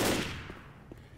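Left 4 Dead gunfire: a quick burst of rapid shots at the start fading out, then scattered single shots, fairly quiet and close.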